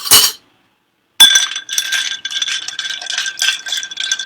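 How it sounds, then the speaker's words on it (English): Ice clinks and rattles against a cocktail glass as it is stirred for a brunch drink, a short sharp burst, a pause, then a steady run of close, bright clinking. "Throw some ice in here. We're going to stir that."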